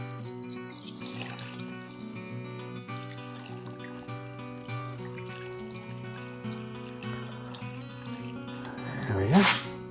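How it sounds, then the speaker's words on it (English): Water from a tap runs into a container at an opalite cutting and polishing bench, a steady faint trickle under a music bed, ending in a brief louder splash. "Add some water."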